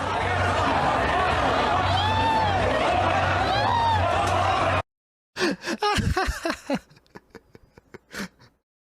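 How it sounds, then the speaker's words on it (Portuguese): A played-back recording of a crowd in Ceará booing, a dense, loud roar with whistles and jeers lasting about five seconds before cutting off abruptly, followed by a person talking. "Ó, as vaias cearense aqui."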